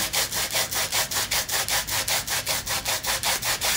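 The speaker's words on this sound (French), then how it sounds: "comme ça frotte là, c'est comme ça que ça enlève les peaux mortes" An exfoliating hammam glove scrubs rhythmically over skin, about a dozen quick, even back-and-forth rasping strokes, close and steady with no talking.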